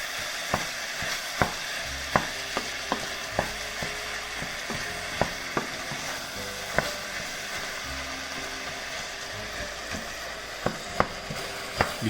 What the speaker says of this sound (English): I need to brown all my beef